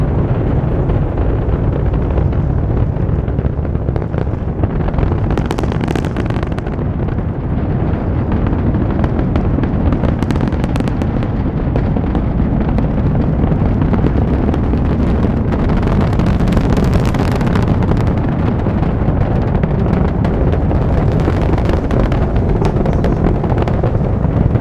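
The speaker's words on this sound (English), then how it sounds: "Engine ignition and liftoff of the Falcon Heavy rocket, sending Europa Clipper on a journey to the icy world of Europa" Falcon Heavy rocket engines roar after liftoff, a sustained, distant, broadband rumble with crackling bursts and wind buffeting on the microphone, loud and unbroken throughout.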